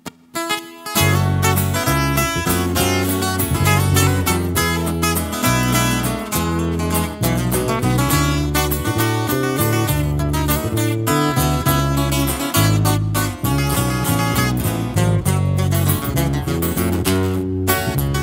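A live norteño corrido band plays a song, with dense, loud, continuous instruments and a steady rhythm running for the whole stretch and no talking over it.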